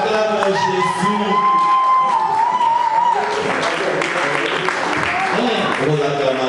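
A church congregation cheers and applauds during a French-language worship service, with loud continuous clapping and shouts of joy mixed with sustained tones and a voice over the crowd, growing denser and more scattered in the second half.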